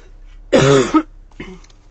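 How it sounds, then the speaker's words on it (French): A woman with a scratchy throat coughs once sharply and close, followed by a softer short throat-clearing cough, in a quiet room. "Désolée hein, si je tousse pas mal, mais j'ai la gorge qui gratte"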